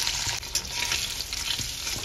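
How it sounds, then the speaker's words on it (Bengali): Hilsa fish frying in hot oil with a loud, continuous sizzle and crackle up close, occasional stirring, and no voices. "তাহলে চলো ইলিশ মাছগুলো ভেজে নেওয়া যাক।"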